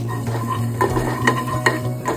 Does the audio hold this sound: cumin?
yes